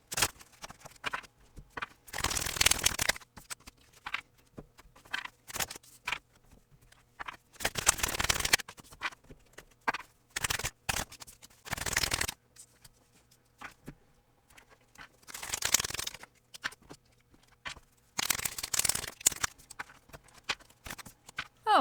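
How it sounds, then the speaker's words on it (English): Tarot cards shuffled by hand in several brief, crisp riffling bursts separated by quiet pauses, close and fairly soft, with light tapping and handling noises between them and no speech. "let's see what the cards have to say for you guys"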